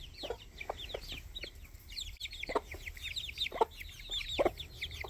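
Free-range baby chicks cluck and peep outdoors, with repeated short chirps and soft clucks overlapping at close range over steady background ambience.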